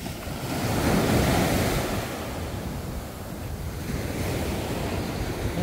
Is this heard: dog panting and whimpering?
no